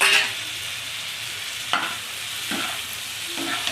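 Pasta is stirred and fried with spices in a pan, with a steady sizzle under several distinct scraping stirs, close and fairly loud, and no talk.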